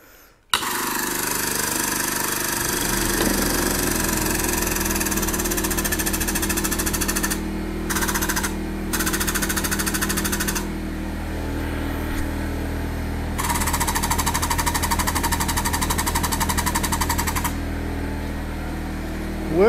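A hydraulic bead breaker clamping and pushing on a tire, a loud continuous droning hum of the pump and motor with a rapid rattling texture, broken by short pauses, running close and steady throughout.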